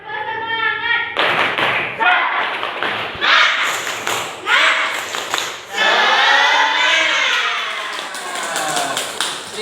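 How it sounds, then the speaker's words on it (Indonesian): A primary school class does a rhythmic spirit clap, with children's voices chanting along between loud, close claps and thumps in a patterned beat. "marilah kita melakukan tepuk semangat dahulu agar kita pada pagi hari ini tetap semangat"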